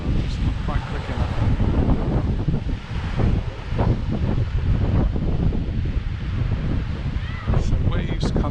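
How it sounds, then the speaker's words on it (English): Sea waves roll in and break at the shore in Cala Rajada, Mallorca, in a steady, rushing wash. Heavy wind buffeting on the microphone partly masks the surf, and a muffled voice may be present. "So waves come in waves."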